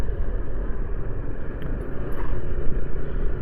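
Traffic on a busy market street in Alathur, a continuous rumbling wash of car and motorbike engines passing at moderate distance, with a faint horn or two rising above the steady din.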